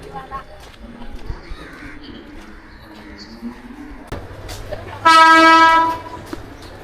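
A passenger train pulls into a crowded station during monsoon rain, ambient platform noise giving way to a rumbling arrival and then a loud, steady horn blast lasting about a second, with crows cawing nearby.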